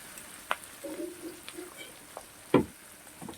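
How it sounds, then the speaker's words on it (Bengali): Onions frying over a medium flame for a mutton curry, with a soft sizzle under a few distinct utensil scrapes and knocks, one louder clatter near the end; no talking. "পেঁয়াজগুলোকে আমি লাল লাল করে ভেজে নেবো একটু সময় ধরে ভাজতে হবে"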